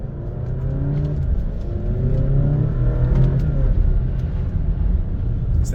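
A car running and driving just after a fuel pump repair, its engine giving a steady, close rumble with a rising whir that swells and eases through continuous acceleration, with no talking.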